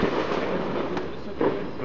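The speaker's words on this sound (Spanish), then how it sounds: "intenta con los fuegos artificiales" Fireworks during a Christmas outing pop in a few brief bursts over a steady crowd-like background, with faint voices nearby.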